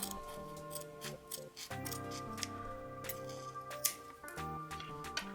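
Scissors snip repeatedly through fabric, trimming back a sewn seam allowance on a bag, a close run of crisp, uneven cuts with faint metallic clicks and no talk.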